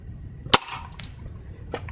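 A Benjamin Trail NP air pistol fires a hollowpoint dome pellet: one sharp, loud crack up close, followed by a couple of fainter clicks.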